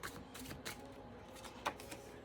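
Cards shuffled and drawn, very faint close rustles and soft flicks in a loose, irregular rhythm over quiet background hiss.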